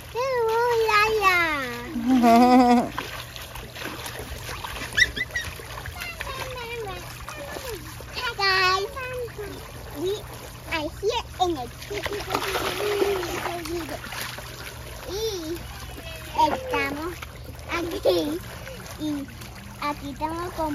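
Children splashing in water outdoors on a countryside outing, intermittent splashes and trickles mixed with excited kids' voices and adult talk throughout.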